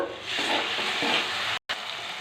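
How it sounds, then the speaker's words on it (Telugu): Ginger paste frying in hot oil with onions and turmeric in a pan, a loud steady hiss with stirring, briefly cut off by a moment of silence near the end, no voices. "ఇప్పుడు అల్లం పేస్ట్ వేగండి"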